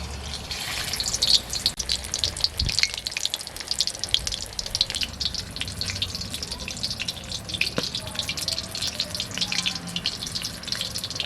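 Cabbage and prawn fritters in batter frying in hot oil, a steady crackling sizzle with scattered sharper pops, close and moderately loud, no one speaking.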